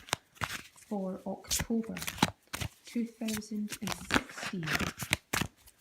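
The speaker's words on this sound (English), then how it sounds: "Okay, shuffling for Scorpio" Tarot cards from a Mermaid Tarot deck are shuffled in quick, papery riffling bursts that recur throughout, heard close and clear while someone speaks over them.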